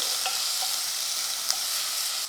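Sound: ginger garlic paste sautéing on low flame

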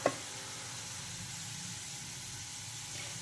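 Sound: peanut-filled karanji pastries frying in oil

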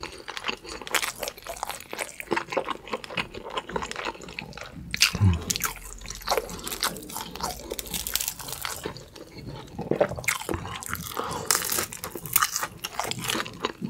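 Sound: eating crunchy boneless Supreme seasoned fried chicken

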